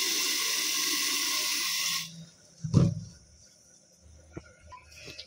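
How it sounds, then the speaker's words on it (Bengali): Water runs steadily into a pot of rice for about two seconds while it is being washed, then stops, followed by a few soft knocks and a brief clatter of grains and pot at close range. "চাল নিয়ে নিয়েছি, এবার ধুয়ে নেব"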